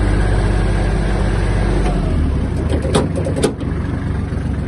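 A Kubota GL-32 Japanese mini tractor engine running, a loud close diesel rumble that drops slightly partway through, with a few brief clicks and clunks over the steady drone and no talk.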